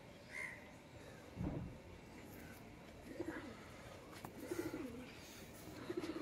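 Domestic pigeons coo softly in a quiet setting, with several low, repeated calls spread across the moment and faint distant bird sounds between them.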